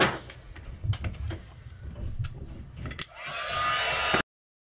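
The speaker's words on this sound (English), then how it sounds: "let me get my heat gun in here" A heat gun blowing hot air over a stamped holiday card for embossing switches on near the end, giving a steady close whoosh after some soft handling noises.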